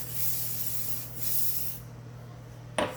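Airbrush foundation makeup is sprayed onto a face with an Essence and Era Everyday airbrush, a steady close hiss with a steady low motor hum beneath it that stops just before a short final burst.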